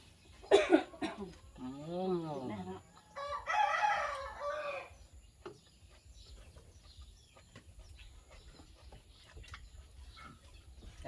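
Rooster crowing loudly and near in a rural Thai household setting, one full drawn-out crow with clucking and a cough-like burst before it, then quiet background with faint scattered clicks.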